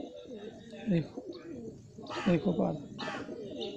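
A female pigeon coos softly while held in the hand, a few low throaty coos close by, with someone speaking over and between them.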